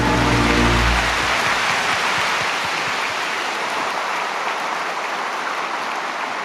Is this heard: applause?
yes